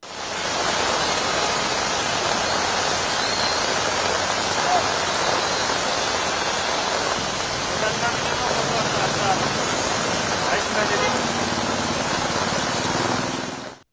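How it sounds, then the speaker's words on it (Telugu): Heavy monsoon rain pours steadily and loudly over Hyderabad city, a dense, continuous hiss of water drumming on surfaces with no breaks. "కుండపోతగా వాన కురిసింది"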